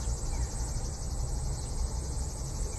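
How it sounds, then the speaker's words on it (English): A dense, steady chorus of cicadas buzzing continuously at an even level, with no pauses and no voices. "the sound, the symphony of cicadas"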